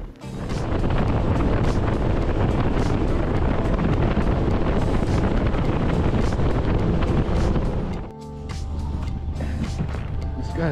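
Boat cruising across calm, flat water on Christie Bay, Great Slave Lake, a loud steady roar of engine and wind buffeting that drops to a lower hum near the end.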